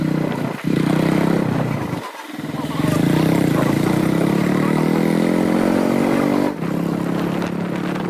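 Yamaha RX100 two-stroke motorcycle engine running steadily close by after a workshop repair, a continuous buzzing drone with rising pitch as it revs, briefly dipping near the start and again near the end.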